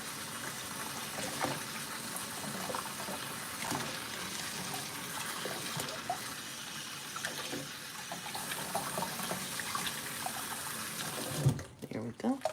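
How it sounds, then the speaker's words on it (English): A doll is rinsed under a running tap at a sink, producing a steady close splash and hiss of flowing water that cuts off near the end, followed by a few handling knocks. "she's gonna get rinsed off."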